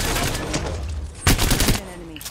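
In Apex Legends, a battle-royale video game, rapid bursts of gunfire hit body shields, with the loudest cluster near the middle.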